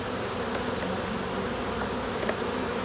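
Dark honeybees buzzing loudly and continuously during a hive inspection at a new apiary, a thick, close swarm hum with no speech.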